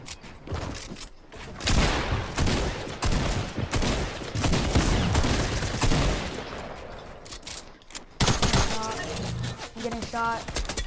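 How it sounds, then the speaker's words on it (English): Video game gunfire crackles in rapid bursts and volleys with heavy impacts, dense and loud, while players talk over the shooting. "I'm getting shot."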